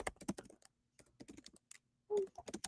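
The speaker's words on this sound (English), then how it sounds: "You're gonna hear some furious typing." Fast, uneven bursts of typing on a computer keyboard, close and clear, with brief pauses between flurries of key clicks.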